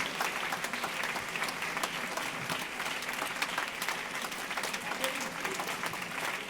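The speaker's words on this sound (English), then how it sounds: "Clap your hands and you pray for them." A church congregation claps steadily during prayer, a continuous patter of many hands heard fairly faint and distant, with soft voices blending underneath.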